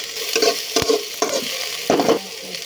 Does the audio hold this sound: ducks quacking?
no